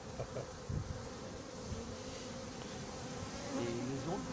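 A honeybee swarm buzzes as it is gathered into a cardboard box at Moissy-Cramayel, a dense, continuous droning hum from many bees close by with no talking.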